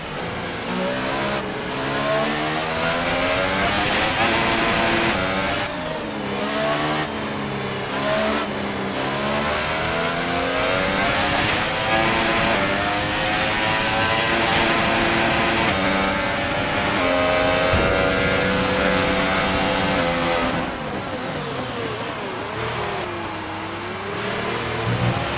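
An F1 2018 video game race car engine at the Hungaroring drones and revs continuously, pitch climbing and dropping through uneven, stuttering gear changes from a damaged gearbox, loud and close without any voices.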